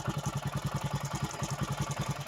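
A vehicle engine runs at idle with an even, rapid low chug that pulses steadily throughout, close and moderately quiet, with no voices over it.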